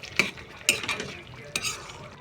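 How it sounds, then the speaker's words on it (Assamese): A spoon scrapes and clinks in a pan as pre-fried potatoes are mixed into a drumstick curry, with three sharp stirring knocks spaced apart over a soft background. "এবাৰ মিহলি কৰি লৈছোঁ"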